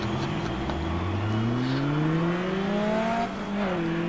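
A Jaguar Mark II race car engine in GT Legends revs up at a race start, a rising, steady mechanical drone that climbs in pitch over several seconds, dips briefly, then climbs again, loud and continuous with no talk.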